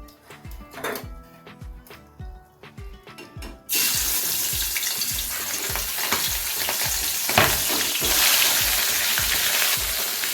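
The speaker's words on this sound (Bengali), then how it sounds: "এবারে আমি মাছগুলোকে এক এক করে দিয়ে দেবো।" Tangra fish drop into hot mustard oil in a wok, setting off a loud, steady sizzle and crackle after quieter clattering and tapping at the start.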